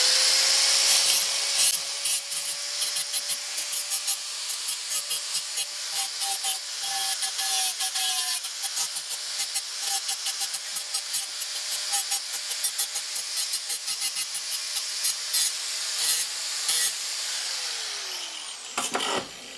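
Angle grinder fitted with a cutoff blade cutting through a rock slab, a steady high-pitched whine with gritty scraping that runs close and loud for nearly twenty seconds before winding down at the end.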